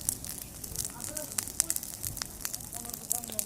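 A bonfire burns close by with dense, sharp crackles and pops over a steady roar of flame, while someone talks over it.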